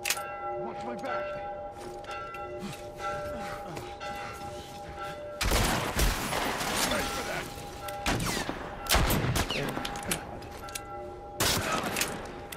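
Gunfire in The Last of Us Part I game: sharp broadband bursts of shots break in after a quieter stretch with a steady tonal hum, with several loud volleys close together.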